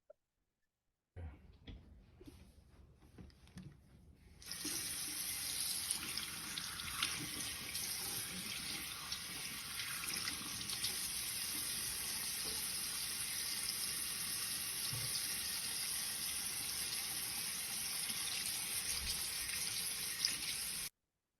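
Water runs from a tap while hands are washed, starting with a quieter trickle then opening into a steady, continuous splashing stream that stays even and close for most of the time.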